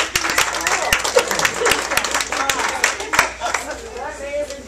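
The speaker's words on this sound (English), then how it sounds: "Why don't we give these guys a round of applause?" A room full of adults at a literacy educators' conference applauds student speakers, crisp individual claps close by over a bed of clapping, with murmured chatter mixed in.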